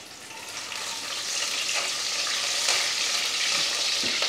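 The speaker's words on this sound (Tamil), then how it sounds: "எண்ணெய் காயிட்டு சோம்பு பொரிஞ்சிருச்சு" Fennel seeds sputter and crackle in hot cooking oil, a steady close frying sizzle with scattered pops, rising slightly in intensity and continuing without speech.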